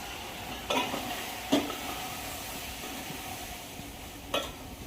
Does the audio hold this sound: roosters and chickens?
no